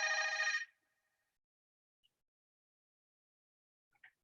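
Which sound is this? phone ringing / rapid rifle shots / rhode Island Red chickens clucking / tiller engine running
phone ringing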